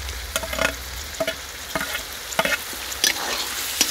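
Grated coconut frying with vegetables in a pan for mutton fried rice, a steady close sizzle broken by sharp scraping stirs at irregular intervals, with no voices.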